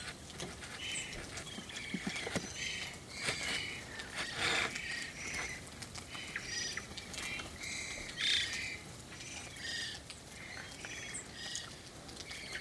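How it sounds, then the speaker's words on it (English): Small dark-eyed juncos trill and chirp in the snow, mixed with other songbirds such as finches, chickadees and nuthatches. A steady, busy chorus of quick high twitters and calls runs throughout at moderate distance, with no talking. "lots of little juncos."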